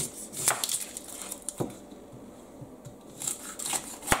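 Red and white onions being trimmed and peeled at close range: scattered short snips and knife taps, dry papery rustling and crinkling skins, uneven and moderately quiet, with no voices.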